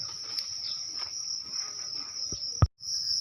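Crickets in a cricket-farming pond chirp steadily in a shrill, continuous trill close by, briefly cut by a couple of soft knocks near the end.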